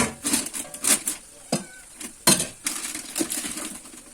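Wheat flour dough for aloo paratha is kneaded by hand in a home kitchen, giving irregular soft slaps, squishes and brief knocks in uneven bursts, fairly close, with no talking.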